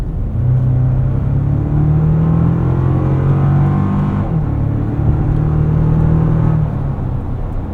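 A 2024 Toyota Tacoma Limited pickup with the i-FORCE Max powertrain accelerates hard, its engine droning loud and steady from inside the cab as the pitch climbs, drops at a gear change, then climbs again.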